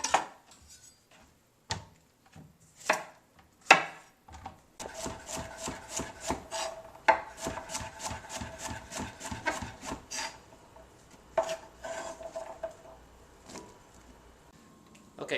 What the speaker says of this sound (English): So let's get all this diced up and then I'll show you what it looks like.